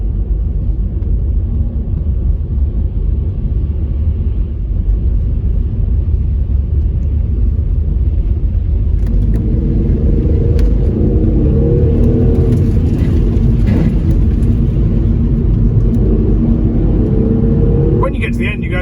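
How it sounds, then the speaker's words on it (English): Car wading slowly through deep winter floodwater, with a steady low engine rumble throughout and a swelling churn of water and engine noise in the second half. "when you're driving through deep water,"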